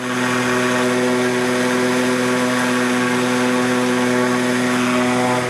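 A float plane's propeller engine drones steadily and loudly overhead during a flight above sprawling jungle, a constant even roar with strong harmonic hum and no speech.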